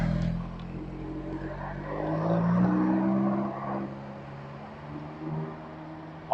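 A Ferrari drives slowly around a short indoor-style course at an automobile museum in Mulhouse, its engine a steady low rumble that swells and rises in pitch midway, then settles back under ambient crowd noise.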